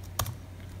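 A single quick keystroke or two on a computer keyboard while setting up a Raspberry Pi, a short close click over a steady low hum.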